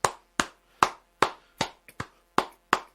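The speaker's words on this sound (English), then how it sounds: "I like giving you a few claps afterwards" Eight sharp hand claps ring out close and dry in a steady, evenly spaced rhythm, alone with no other sound.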